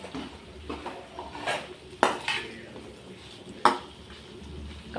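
Chicken fries in oil with ginger garlic paste and turmeric, a soft sizzle under scraping stirs and a few sharp clinks of a utensil against the pan.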